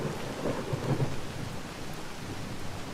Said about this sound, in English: So now we've got a storm going.